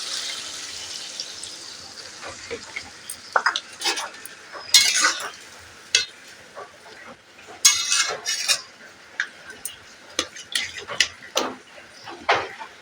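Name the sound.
water poured into cooking pan, lid put on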